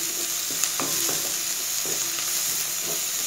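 Onions fry in a pan of hot oil for Tamil urundai kulambu, a continuous close sizzle broken by repeated scraping and stirring knocks from a spoon.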